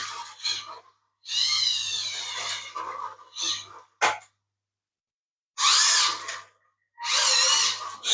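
Whining bursts from a small electric screwdriver or drill driving screws into the plastic body shell of a toy-grade RC car, several separate runs of a few seconds each with short pauses between, plus one sharp click.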